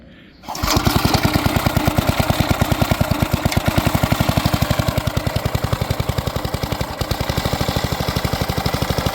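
A small tiller (motoculteur) engine coughs to life after a brief quiet moment, then runs steadily with a loud, rapid, even chugging rhythm close to the microphone.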